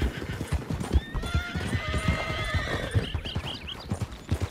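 Horses in the Red Dead Online video game: rhythmic clip-clop hoofbeats close by with a clear whinny rising midway, followed by snorts.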